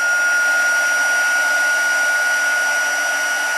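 A heat gun blows with a constant loud whooshing hum while melting silver embossing powder on a paper gift box project, its steady tone unbroken throughout with no voices.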